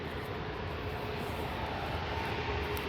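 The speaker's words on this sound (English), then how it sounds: "one more plane and then the A380" Airplane engine roar at an airport during plane spotting, a steady, loud jet rumble that holds throughout, with no talking.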